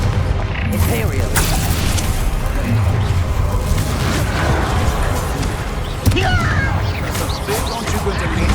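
Dense, continuous blasting and crashing from Hogwarts Legacy spell combat against a troll, with Confringo fire curses going off amid a steady wall of effects, close and loud, while voices shout over the battle.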